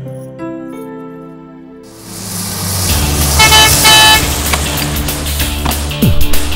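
A lorry horn honks loudly in a few sustained blasts over a rumbling, busy street, with rough engine and traffic noise surrounding it.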